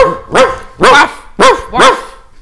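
Dogs bark in a kennel: four loud, close barks in an even, quick rhythm, with no talking over them.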